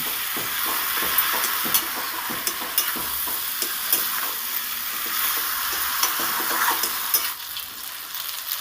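Fried okra being stir-fried together with potato masala in a pan, a steady close sizzle of frying with frequent scraping and stirring clicks of a spatula, continuous throughout with no talking.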